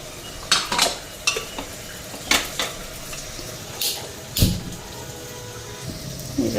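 Metal pots and utensils clank and scrape on a stovetop as a pressure cooker is set down for cooking dal, several sharp knocks spread irregularly over a faint background hiss.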